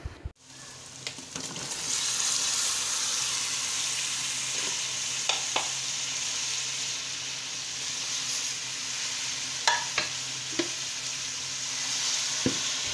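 Masala sizzling and frying in hot oil with ghee added, a loud continuous hiss close up, broken by occasional clinks and stirring scrapes.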